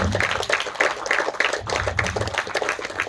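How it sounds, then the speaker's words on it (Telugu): A crowd claps steadily and fairly loudly throughout, a dense rattle of many hands with no pause. "ఒకసారి గట్టి క్లాప్."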